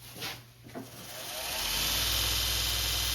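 A 2x42 belt grinder with a coarse ceramic belt takes material off the front and back of a knife blade, a brief scrape rising into a loud, continuous abrasive whine that holds steady to the end.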